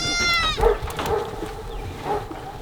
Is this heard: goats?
yes